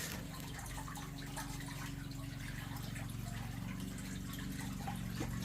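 Water drains through a hose from a boiler heating system in a boiler room, a continuous rushing, gurgling flow with steady low rumble and no pauses.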